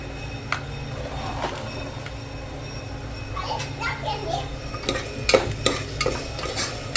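A spoon stirs a yakhni pulao mixture in a pot, with soft scraping and clinks close by over a low sizzle, while children's voices chatter in the background.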